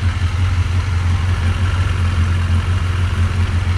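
Yamaha XJ900 Diversion motorcycle engine idling steadily after valve and carburetor work, a close, even low rumble with light mechanical clatter, no speech.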